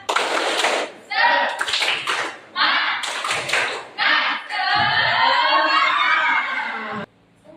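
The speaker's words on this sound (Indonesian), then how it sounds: "Tepuk semangat." A class of students claps together in a rhythmic cheer pattern, bursts of clapping in short groups followed by a longer sustained run, with shouted voices mixed in, close and loud.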